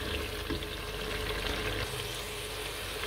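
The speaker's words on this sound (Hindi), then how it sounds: "सब मसाले शामिल करने के बाद तकरीबन 5 मिनट फ्राई किया है।" Spices such as salt, red chili, turmeric, dried coriander and garam masala frying in cooking oil for a kidney bean curry: a soft, steady sizzle heard fairly faintly, with no voices.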